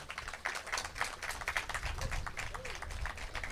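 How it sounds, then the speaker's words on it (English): Applause for the mayor and city council at a Juneteenth mural dedication honoring Frederick's Black educators, a scattered outdoor round of clapping, moderately loud and steady throughout, with a few voices murmuring underneath. "if we could give the mayor and the city council a round of applause."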